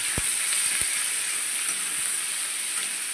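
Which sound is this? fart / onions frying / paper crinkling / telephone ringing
onions frying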